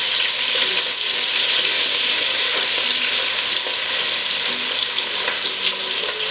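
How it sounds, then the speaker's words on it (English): Cajun chicken sears in a hot pan with a loud, continuous crackling sizzle, close by and dense throughout, with scattered pops over the steady hiss. "So I can go ahead and flip them."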